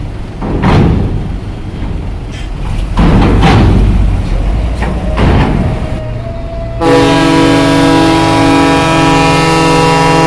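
Telolet musical horn of an SGH Trans bus at a harbour pier, blaring a loud sustained melodic tone after several seconds of engine and ambient harbour noise, steady and close.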